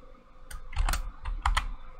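Keys clacking on a computer keyboard while code for a 2D shooter game is typed, a few quick close bursts of keystrokes with brief pauses between them, no talking.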